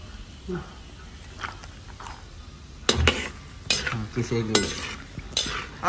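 Nuts frying in a home kitchen pan, with clinks of a utensil against the pan and soft scraping stirs, louder in the second half; a voice speaks faintly in the background.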